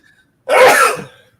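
One loud, close sneeze, an abrupt explosive burst that trails off within about half a second.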